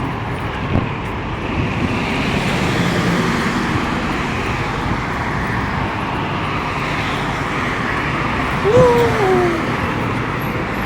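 Road traffic rolls past near a park, a continuous broad roadway rush with a slight swell as one vehicle goes by. A brief voice and a faint tonal sweep late on sit over it.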